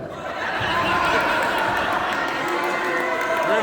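Wrestling crowd at a live independent pro wrestling show, a steady broad roar of cheering and chatter filling the arena, loud and continuous throughout.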